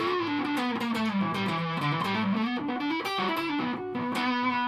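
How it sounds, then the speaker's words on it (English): Heavily distorted electric guitar played through a built-in ARTEC Quadsound distortion preamp, sustained chords and notes ringing steadily and loud throughout, with no other sounds. "It just sounds like a distortion pedal built into your guitar."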